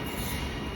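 Train passing at West Footscray, a steady close rumble of wheels on track with a faint squeal, no voices.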